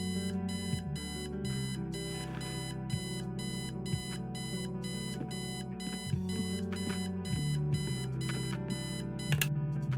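An alarm clock in the game Kathy Rain rings with rapid, repeated electronic beeps in a steady pulsing pattern, fairly quiet, layered over a low sustained background tone with no talking.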